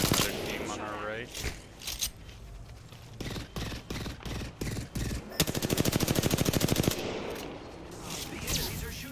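Enemy gunfire in the video game Apex Legends, with bursts of rapid automatic shots and single cracks, then a long sustained volley, loud and close, mixed with a player talking over it.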